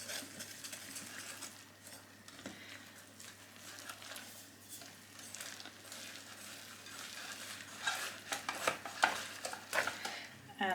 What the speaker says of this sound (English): I'll get my dough whisk and we just bring it together